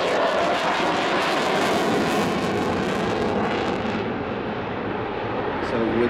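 Eurofighter Typhoon fighter jet performing a corkscrew at the Ayr air show, a loud, continuous roaring jet engine rumble that fades slightly as it passes, with a commentator speaking over it.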